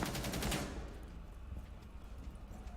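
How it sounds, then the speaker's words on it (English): A short rapid burst of automatic gunfire in Rainbow Six Siege at a tournament match, loud for the first half-second and then trailing into fainter scattered shots and echoes. "Bandit's going to fire back"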